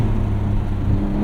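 Twin-turbo engine of a 2025 Porsche 911 Carrera S (992.2) heard from outside the car, a steady low idle rumble running throughout, fairly loud and alone.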